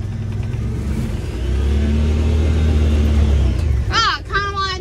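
Honda Pioneer side-by-side driving in low two-wheel drive, a loud, close engine rumble that swells and holds steady before easing off, with people talking briefly at the end.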